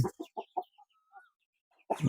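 Month-old chicks and chickens cluck in a farm coop in a quick series of short, close calls, followed by a thin high peep and a louder burst of clucking at the end.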